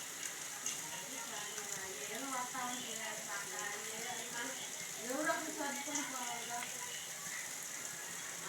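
Pakoda fritters sizzle in hot oil on a rainy day, a steady crackling fry with bubbling bursts that runs throughout at a soft level.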